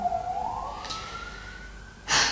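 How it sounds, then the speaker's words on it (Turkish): An ambulance siren passes outside, a single rising wail that sweeps upward and holds steady at moderate distance before a loud burst of noise cuts in at the end. "Evet, sürekli ambulans geçiyor."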